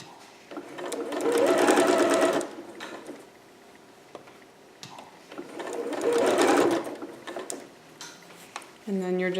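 A sewing machine stitches fabric in two loud, rapid bursts of mechanical whirring and clatter. Quieter pauses between them carry small handling clicks.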